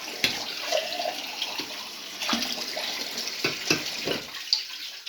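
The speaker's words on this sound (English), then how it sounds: "today we're going to be just adding some water to our" Water trickles and splashes from a pouring vessel into a bowl of flour for a vegan bean dish, with a few soft clunks and taps; close and moderately loud, no voices.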